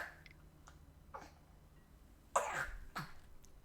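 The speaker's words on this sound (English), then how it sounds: "You've heard me coughing." A few short, dry coughs from one person, the last two louder and close together near the end, separated by quieter throat noises in a quiet room.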